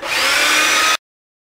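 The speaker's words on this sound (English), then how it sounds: "the reason I like these little belts, or these little belt sanders, is it allows me control of where I need to sand a little bit more" A small belt sander fitted with a 175 grit belt sanding wood, a close, high whirring grind that runs for about a second and then cuts off abruptly into silence.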